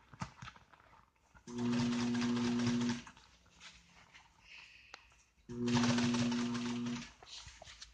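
Two bursts of a fast, steady mechanical whir with a low hum as a sewing machine stitches automotive seat upholstery, each lasting about one and a half seconds, separated by quieter room noise and faint sounds.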